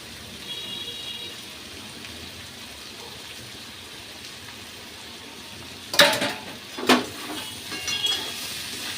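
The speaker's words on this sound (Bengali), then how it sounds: "তো এবার আমি মাছের ডিমটা দিয়ে আরেকটু ভাজবো, যাতে মাছের ডিমটা এর সাথে মিশে যায়।" Sliced ridge gourd and fish roe fry in a pan with a soft, continuous sizzle, joined around the middle by a couple of sharp clatters of a utensil against the pan.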